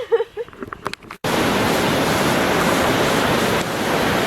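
A river by Phelps Lake rushes in a steady broadband roar, loud and close, after a brief patch of mixed sound and a short gap at the start.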